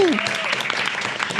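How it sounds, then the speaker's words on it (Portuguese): Crowd applause at a live event in a burger restaurant, filling the room steadily with dense clapping and a few cheers, moderately loud and close. "vamos fazer uma salva de palmas para a ASUS também"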